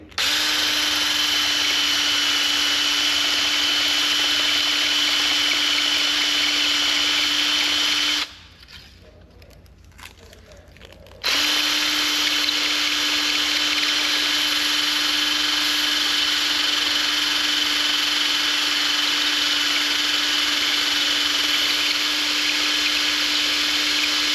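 A power tool spins a suspension part clamped in its chuck against a sanding belt, a loud steady whine with a constant hum, cutting out for a few seconds before starting up again and running on.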